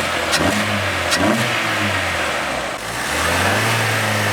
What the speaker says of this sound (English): I'm gonna give you guys a little rev